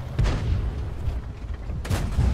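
World of Tanks main gun firing, two heavy booming blasts spaced about a second and a half apart, loud and close over a low engine drone.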